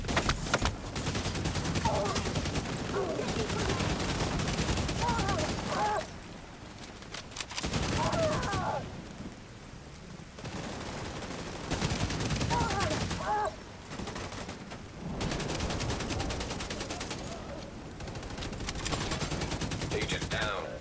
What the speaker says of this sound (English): Some shooting on my part